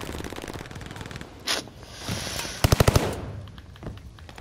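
Cooper Carbine automatic gunfire in the Call of Duty Vanguard video game, a quick burst of about five loud, close shots standing out from a busy backdrop of game effects.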